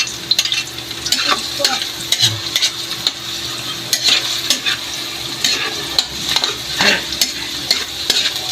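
Onions and garlic fry and sizzle in a pan for adobo while a utensil stirs steadily, a continuous close hiss with repeated scraping strokes and no talking.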